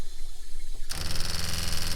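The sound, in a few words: RV water pump kicking in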